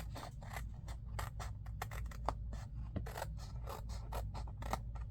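Scissors snip and trim the edge of paper for a fancy vintage envelope, a quick run of crisp, closely spaced cuts heard up close with no talk.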